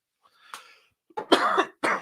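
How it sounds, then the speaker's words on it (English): A few harsh coughs close to the microphone, starting with a faint one and followed by two loud bursts, with silence in between. "Sorry about the coughing fit there."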